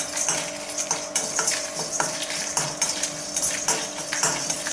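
Chana dal, coriander seeds and two dried chilies are dry roasted in a pan, with steady close rattling and scraping of a metal spoon against the pan that keeps going throughout, without any voices.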